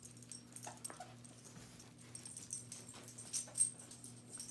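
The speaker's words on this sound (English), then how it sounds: "He's such a beautiful dog." Small dog named Finn, a new family pet, whimpering softly in a quiet home, thin faint whines and brief yips scattered over a steady electrical hum.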